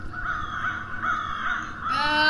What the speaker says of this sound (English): Why is there loud crow noises?